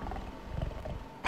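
A creature in the 1995 video game BioForge lets out a low, rumbling roar that swells and fades, with a brighter burst at the end, fairly quiet and alone.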